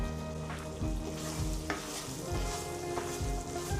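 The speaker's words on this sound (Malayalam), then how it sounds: "നമുക്കിതിലേക്ക് കുറച്ച് കറിവേപ്പില ഇട്ട് കൊടുക്കാം." Curry leaves sizzle and crackle in a pan over a very low flame while pepper chicken chukka cooks, with steady frying hiss, occasional stirring clatter, close up and no talk.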